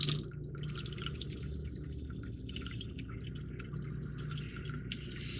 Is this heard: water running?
yes